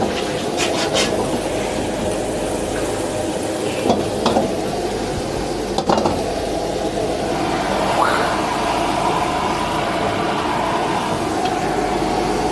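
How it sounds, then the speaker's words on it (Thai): Squid eggs blanching in a pot on a stovetop give a steady, loud bubbling hiss throughout, broken by a few faint clinks. "เดี๋ยวเรามาลวกไข่ปลาหมึกกันก่อน เปิดไฟขึ้น เทไข่ปลาหมึกลงไปครับ"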